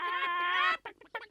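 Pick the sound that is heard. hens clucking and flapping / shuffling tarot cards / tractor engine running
hens clucking and flapping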